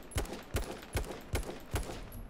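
Gunfire in the battle-royale shooter H1Z1 King of the Kill: five evenly spaced shots about every 0.4 seconds, sharp and fairly close, with no talking.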